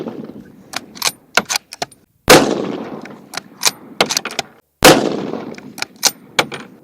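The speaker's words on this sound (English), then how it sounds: "We're going to run this without the suppressor, without the Titrax suppressor, and with the 147 grain arms core." Two loud, sharp shots from an unsuppressed rifle firing 147 grain ammunition, each ringing into a long echo, with lighter metallic clicks and handling noises scattered between them outdoors.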